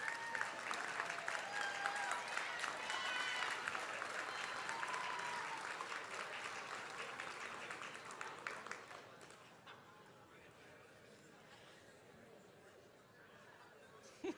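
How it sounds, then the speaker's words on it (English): Audience at a university health sciences white coat ceremony claps loudly and steadily with scattered chatter and laughter, the applause thinning toward the end into a quieter murmuring hall. "Big clap."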